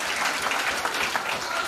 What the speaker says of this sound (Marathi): टाळ्या वाजवून कौतुक करायचं आहे